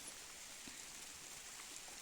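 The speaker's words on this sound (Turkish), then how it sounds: "Yağmurun sesi çok güzel geliyor bence." Steady rain falls outdoors in autumn, a faint, even hiss of drops with no distinct individual impacts, heard alone without voices.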